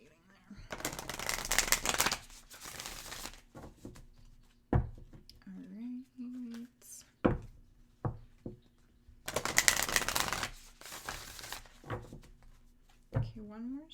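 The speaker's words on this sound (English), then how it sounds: "Okay, one more shuffle." Oracle deck cards are riffled and shuffled by hand in two loud bursts of rapid crisp flutter, separated by softer card handling and taps, with speech in between.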